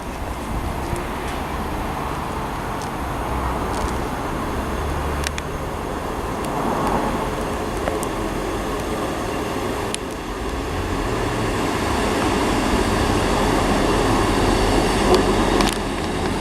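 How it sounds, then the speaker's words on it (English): A two-carriage ScotRail Class 158 diesel train rumbles steadily into Linlithgow station, its low engine drone and rolling noise growing slightly louder as it pulls in close by. "next to arrive in is the delayed 1408 ScotRail service to Edinburgh from Dunblane"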